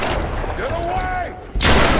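A single loud, close shotgun blast from the video game Tomb Raider bursts out near the end, after a stretch of shouting voice.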